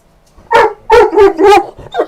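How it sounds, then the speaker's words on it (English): Several loud, close dog barks ring out in quick succession, four sharp barks followed by a shorter fifth one, heard indoors with no talking. "It's very rare to have a stream without the dogs' sounds from somewhere."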